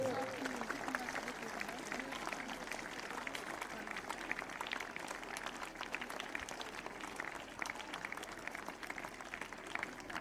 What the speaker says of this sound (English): Students, please cheer.